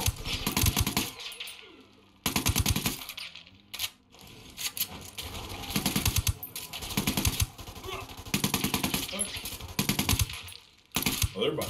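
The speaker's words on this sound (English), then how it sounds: "They're behind us, and they're shooting through concrete." Rapid gunfire bursts from the video game Ghost Recon Wildlands crackle loudly in repeated volleys of automatic fire, separated by brief gaps, with the shooting close and dominant throughout.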